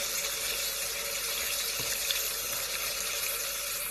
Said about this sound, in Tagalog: Hugasan siya ng maigi ng tubig para mawala yung kaliskis niya